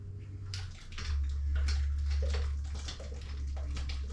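Water pours and splashes out of a jar being emptied, with a strong low rumble underneath and bursts of sloshing and dripping, close by.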